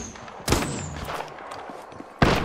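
Gunfire in the video game Apex Legends: two sharp, loud shots about two seconds apart, with quieter crackling and in-game action sounds between them.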